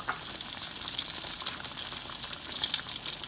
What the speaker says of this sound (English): you just want to let this fry until it browns on the sides